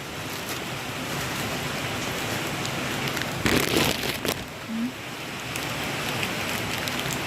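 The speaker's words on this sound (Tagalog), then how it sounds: "Lakas ng ulan." Steady, dense hiss of heavy rain pouring down close by, with a brief louder burst of splashing and rustle partway through.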